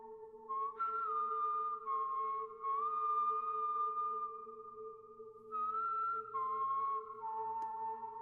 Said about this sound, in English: This kind of steady synth back there and whistling.